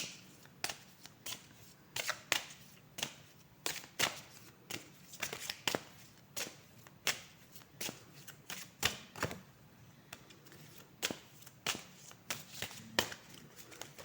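Crisp card-shuffling snaps and flicks come in quick irregular bursts, close and fairly quiet, repeating steadily throughout with no talking.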